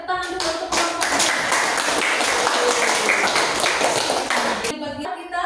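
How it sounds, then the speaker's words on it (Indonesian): Classroom applause for a student group, a burst of many hands clapping together that rises quickly, holds dense and loud for several seconds, then stops abruptly. "tepuk tangan dulu untuk kelompok 2"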